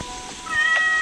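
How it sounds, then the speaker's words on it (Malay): A cat meows in a Roblox Brookhaven roleplay game, one short rising meow over a soft background hum, fairly close and clear with no talk. "Ada kucing. Pelik kucing ni."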